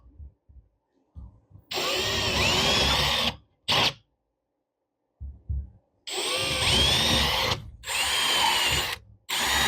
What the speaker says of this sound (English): I just drill one at the corner, one away from it